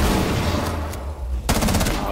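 A burst of rapid gunfire in Rainbow Six Siege, loud and close, with a brief lull before a fresh run of quick shots.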